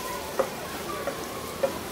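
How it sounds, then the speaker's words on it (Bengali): Pumpkin softening with spices in a pan over low heat, a soft even frying hiss with three light taps from a spatula at the pan. "দিয়ে আমি এর সাথে এখন মিষ্টি কুমড়াটাকে একটু ভেজে নিই"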